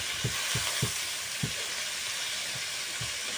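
Turmeric-coated pointed gourd fries in a kadai with a dense, continuous sizzle. Soft, regular thumps of stirring land about every half second.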